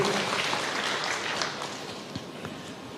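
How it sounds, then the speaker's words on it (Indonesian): Applause from a church congregation during a sermon by a pastor, a steady wash of many hands clapping at moderate level, fairly distant, with a few sharper claps standing out near the end. "Berikan tepuk tangan yang meriah."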